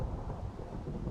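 Low rumbling thunder rolls continuously through a Minecraft thunderstorm, a dense broadband roar with no distinct claps, steady and fairly loud throughout.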